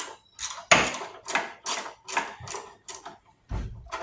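Ratchet wrench on a Chevrolet Impala under repair, heard as a series of sharp, evenly spaced clicking bursts, each a short rasp of ratchet teeth with brief pauses between, close and fairly loud with no talking.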